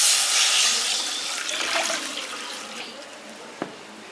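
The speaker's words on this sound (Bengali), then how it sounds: "এবার কড়াইয়ের মধ্যে আমি জল দিয়ে দিচ্ছি" Water poured into a hot kadai (wok) while cooking soybean, giving a loud rushing hiss that gradually fades and thins over about four seconds, ending with a single faint clink.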